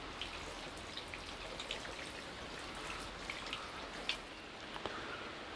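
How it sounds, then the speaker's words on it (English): A heavy downpour in an outdoor vegetable garden with tomato planters, a soft steady hiss of rainfall with scattered close drips and taps, fairly faint and without talk. "At the moment we're being treated to quite a heavy downpour."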